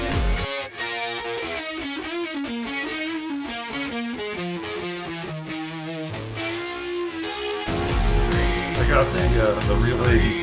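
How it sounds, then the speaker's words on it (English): Waves Reel ADT doubling on a music mix gives a slightly distorted, doubled texture over melodic instruments, with the sound growing denser and louder toward the end. "The Waves real ADT. I like the little bit of distortion in it."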